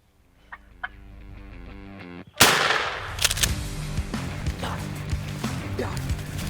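A shotgun fires a single loud blast at a wild turkey on public land in upstate New York, just after a turkey gobbles and clucks close by, with rustling and commotion after the shot.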